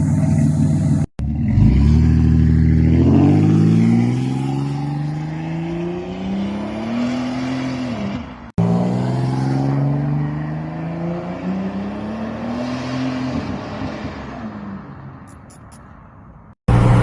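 A 1999 Buick Regal GS Turbo with a 3-inch exhaust feeding dual 3-inch straight pipes revs and accelerates loudly in two long pulls, the pitch climbing through each before cutting off, with no speech.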